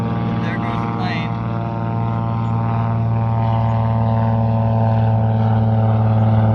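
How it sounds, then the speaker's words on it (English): A float plane drones overhead with a steady propeller buzzing hum that slowly grows louder and fills the air. "But there goes the plane."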